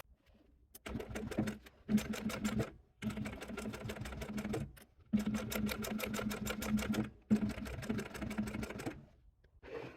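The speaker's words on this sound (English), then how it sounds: "we will go to the machine and we will sew right in here" A sewing machine stitches a sling bag in several rapid bursts of rhythmic clatter, stopping and starting with brief pauses between runs, close and clear.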